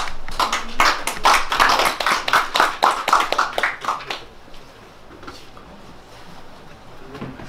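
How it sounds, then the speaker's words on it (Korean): A small audience at a Korean award ceremony claps to welcome a calligraphy master, with distinct, close hand claps at first that thin out and fade into quiet room tone. "큰 박수로 모시겠습니다"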